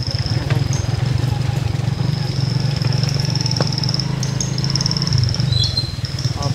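A motorcycle engine putters steadily up close with a low, even rhythm, punctuated by a few clicks and faint high-pitched chirps.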